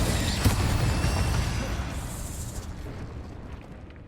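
Incendio and Glacius spells cast in the Hogwarts Legacy video game, heard as a loud, dense roaring burst of magic that slowly fades over a few seconds, with no voices.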